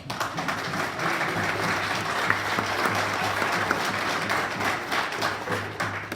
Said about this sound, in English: first timers, give them a round of applause